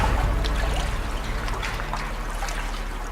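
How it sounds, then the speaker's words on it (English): River water gushing and trickling into a Chinese canal lock to raise the ships, a steady close wash of flowing liquid with a low rumble underneath, no voices. "The river water pours in to raise the ships in the lock"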